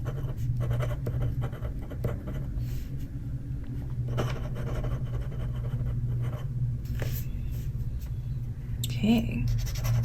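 Fountain pen dipped in ink scratching across paper as a name is written in an ink swatch, faint scratchy nib strokes under a steady low hum, close by, no voice.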